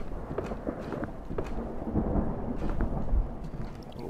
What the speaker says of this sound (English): A little thunder outside again.